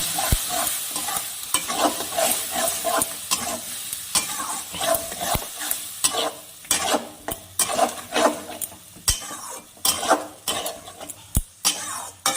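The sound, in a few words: spice paste being stir-fried in a pan for fish curry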